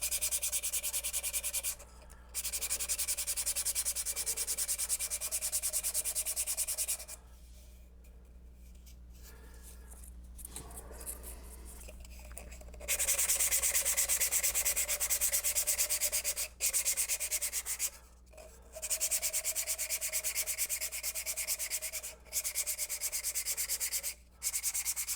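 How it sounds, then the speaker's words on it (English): A sanding stick is rubbed against plastic, 3D-printed model parts for a 1/48 F-82G, giving a close, steady rasping scrape in long continuous strokes broken by brief pauses. "I'm going to use the sanding stick"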